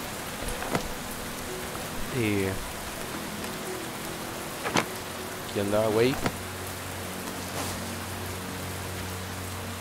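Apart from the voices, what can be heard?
rain in the video game Len's Island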